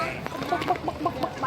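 Hens on a farm cluck in quick, soft, close bursts, a steady run of short clucks with faint background chatter from people nearby.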